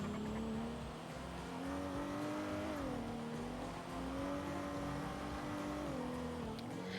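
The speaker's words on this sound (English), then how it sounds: "It's an engine sound." Police car engine in the video game GTA on NoPixel, a low steady drone that rises and falls slightly as it revs, quiet and continuous with no speech.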